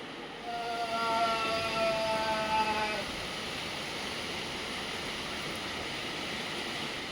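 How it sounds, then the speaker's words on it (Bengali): Heavy rain falls in a steady, even hiss that lasts throughout. In the first few seconds a drawn-out tonal call rises above the rain. "দেখো আবার প্রচণ্ড জোরে আবার বৃষ্টি চলে এলো।"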